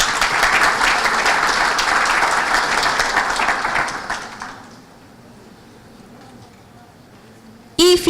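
Loud audience applause at a national accreditation congress panel, dense clapping from a large crowd for several seconds that fades into quiet room noise, then a brief sharp bump at the end.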